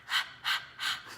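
A person imitates a dog panting with three breathy, rhythmic huffs, each a short burst of airy breath evenly spaced, close and fairly loud, with no other talk.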